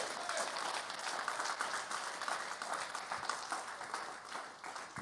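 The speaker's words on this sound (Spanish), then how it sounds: "Démosle un fuerte aplauso al Rey de Reyes y Señor de Señores." A church congregation gives a strong round of applause, a fairly quiet, distant and continuous patter of many hands that thins slightly toward the end.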